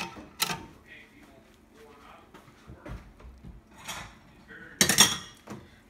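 A metal whisk clatters and scrapes against a pot while making creamy corn cheese maja blanca, giving sparse irregular clinks and knocks with one sharp loud burst near the end, mostly quiet between strikes and with no voices.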